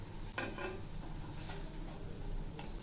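Date palm jaggery is stirred into a little water in a wok, giving soft scraping and swishing strokes with faint clinks and a light sizzle underneath, steady and close by.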